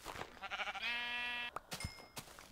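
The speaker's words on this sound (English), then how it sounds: "Oh, there's some sheep." Sheep bleating in a Minecraft-style video game, a couple of close, clear bleats with a sustained tonal cry in the middle, followed by scattered game clicks and sounds.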